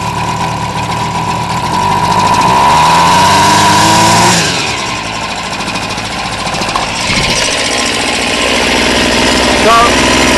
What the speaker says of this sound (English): So, this is my weed whacker. About to die.